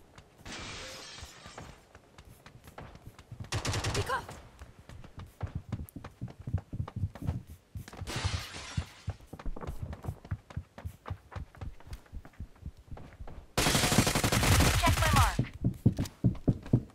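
Automatic weapon fire from the mobile game New State Mobile, bursts of rapid shots and sharp bright blasts spread across the stretch, the loudest near the end, mixed with game effects.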